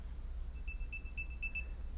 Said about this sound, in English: And then it will start playing this sound, so it's easier for you to find the earbud.